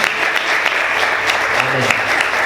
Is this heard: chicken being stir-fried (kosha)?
no